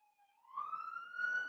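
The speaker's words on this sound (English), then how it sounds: "I had to mute for a sec because ambulance, as always" An ambulance siren outside rises in a single sweeping wail, faint at first and growing steadily louder as it passes, heard alone without talking.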